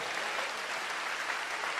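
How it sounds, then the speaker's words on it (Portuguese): Steady applause from a church congregation, a dense even wash of many hands clapping with no voices on top, holding at the same level throughout. "dê uma salva de palmas ao Senhor"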